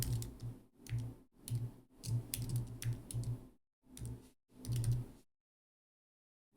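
Command being typed on a computer keyboard, with bursts of quick key clicks in short clusters separated by brief pauses, close and moderately quiet, ending in silence, no speech.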